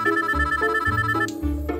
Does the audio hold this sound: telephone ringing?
yes